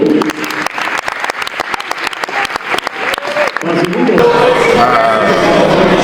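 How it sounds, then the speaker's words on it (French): A live audience in Quebec, at an event with Ronaldinho, applauds loudly. Rapid claps come first, then build into a dense, sustained wave of applause with cheering voices mixed in. "On l'applaudit, quand même."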